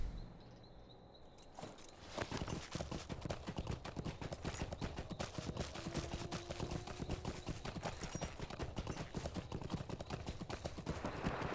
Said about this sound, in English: Should probably get on my horse.